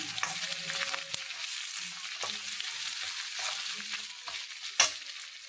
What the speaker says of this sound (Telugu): ముక్కలన్నీ వేసి 2 సెకండ్లు ఫ్రై చేసుకొని